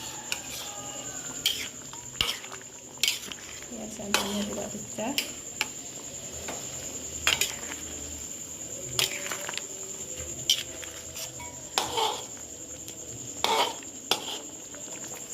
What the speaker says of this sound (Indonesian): Kita aduk pelan-pelan sebelum santan kental juga kita masukkan.